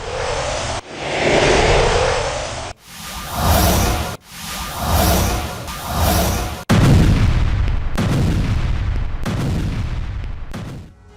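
Gunfire and artillery fire at the Lebanon-Israel border come as loud heavy booms and rumbling blasts in several separate bursts, with long roaring decays and a sustained rumble at the end.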